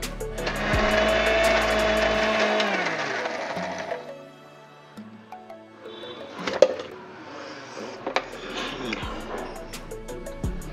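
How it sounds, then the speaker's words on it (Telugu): A kitchen mixer grinder whirs loudly for about four seconds as it blends fenugreek chutney ingredients with sesame seeds and tomatoes, then stops, followed by clinks and handling noises. "ఇవన్నీ మిక్సీలో వేసి"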